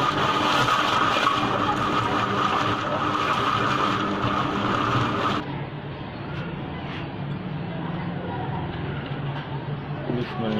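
Electric grinder milling batata musli, a loud, steady whirring motor roar that runs on continuously, then drops to a lower, duller hum partway through as the load changes.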